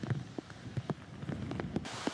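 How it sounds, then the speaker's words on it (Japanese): Heavy rain from Typhoon No. 7 falling in eastern Toyo, Ehime, a steady wash of rainfall with scattered drops striking a surface nearby, moderately quiet with no talking. "東予東部は今日局地的に雨が強まり"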